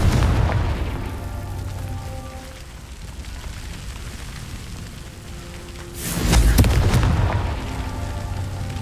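Confringo fire spell in Hogwarts Legacy bursting as a single loud, booming blast around the middle of the clip, over a rumbling, rain-like ambient background.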